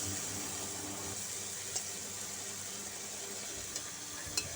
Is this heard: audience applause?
no